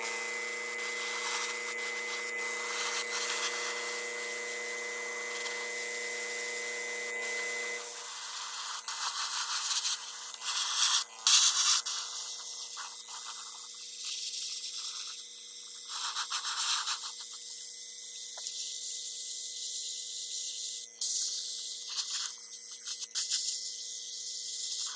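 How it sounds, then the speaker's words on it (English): An airbrush sprays Createx opaque black paint onto a DIY Anti-Venom cosplay mask, a constant hissing air stream with a motor hum that cuts out partway, then bursts of spraying hiss and soft clicks, close up with no talking. "I put some Createx opaque black in my airbrush now that I have let this sit and cure long enough"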